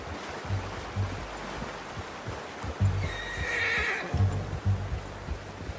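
A horse in Red Dead Redemption 2 whinnies loudly for about a second over steady hoofbeats and a low rumbling background, with a few thuds around it.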